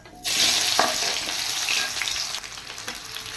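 Sliced onions fry in hot oil with bay leaves, cinnamon and cloves for an Odia chicken curry, a dense, bright sizzle that bursts in loudly and holds steady, with an occasional stir, close by and without speech.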